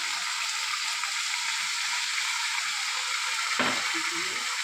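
Ridge gourd and potato frying in a pan with salt and turmeric, a steady close sizzle with broadband hiss throughout and a brief louder scrape of stirring near the end.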